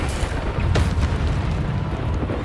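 A Bombarda spell explodes in the video game Hogwarts Legacy as a dense, rumbling blast that fills the short moment, loud and close, with no clear separate hits.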